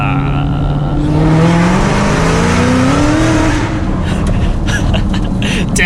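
A 1200hp Shelby GT500 Mustang accelerates hard in second gear, its loud engine note climbing steadily in pitch over several seconds with a rough, roaring exhaust, recorded close up from inside the car.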